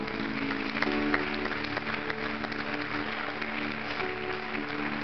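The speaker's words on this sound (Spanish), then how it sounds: "Dale un aplauso fuerte al Señor." A church congregation applauds steadily for about five seconds at a Spanish-language service, the clapping dense and even over a low sustained music bed, at moderate level with no clear voice on top.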